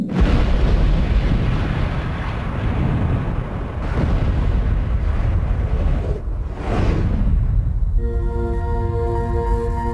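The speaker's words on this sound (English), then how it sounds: "Explosive experts detonate the dynamite." Dynamite blasts at the Stava Dam roar in a long, heavy rumble with surging waves of noise, ending under a steady droning tone.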